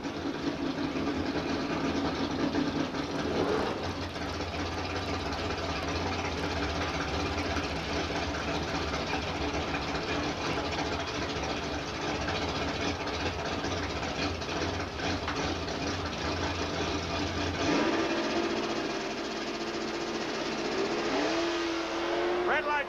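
Drag racing cars at a 1994 drag strip, one a Chevrolet Nova, with engines rumbling and revving in a continuous loud roar. Pitch shifts midway as the cars launch, and an announcer talks throughout.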